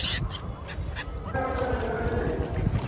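Geese or similar fowl honk and call while flocking to grain tossed from a boat on the Ganga during the Maha Kumbh Mela, a steady near chorus over boat and water noise.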